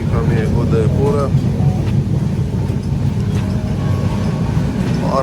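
Indian passenger train rolling toward Udaipur, a steady low rumble of wheels and carriage noise heard from inside, with someone talking over it and the drone continuing beneath.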